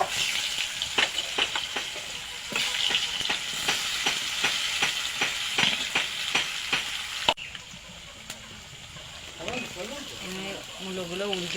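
Radish slices frying in hot oil in a kadai sizzle steadily, with a run of sharp, regular taps and scrapes from stirring. A voice speaks over the frying toward the end.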